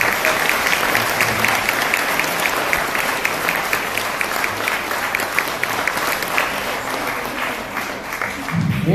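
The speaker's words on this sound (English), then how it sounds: "So can we give a huge round of applause to all the staff?" An audience at a fifth grade continuation ceremony claps loudly and steadily, with dense sustained applause that carries on throughout and a faint voice near the end.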